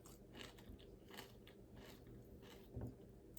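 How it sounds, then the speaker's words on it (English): Crunching and chewing through the bones of a big cooked fish, a few close, soft bites and crackles with a firmer crunch near the end, no talking. "It's bony that you can just eat and crunch on."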